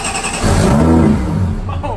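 A supercharged J32A2 V6 engine in a Toyota MR2 cranks and catches, then revs up and settles into a rough idle, loud and close.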